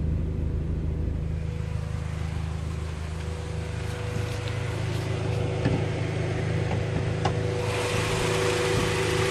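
Cooling fans run on a 1990 Honda Accord after a thermostat job, a steady, close, even whooshing drone with a low engine rumble underneath and no break throughout.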